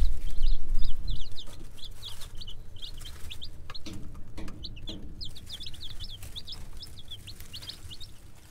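A flock of hens gives off rapid, high-pitched peeps and chirps that continue steadily throughout and sound close by, with a brief low rumble at the start.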